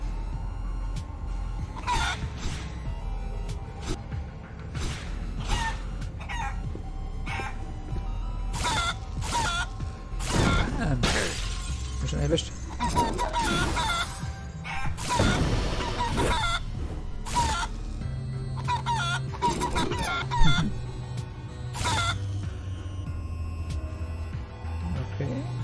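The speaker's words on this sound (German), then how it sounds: "oh ja, ein cooles Hühnerlevel" Chickens cluck repeatedly in a chicken level of the video game Guacamelee 2, mixed with bursts of other game effects and music across a busy stretch of play.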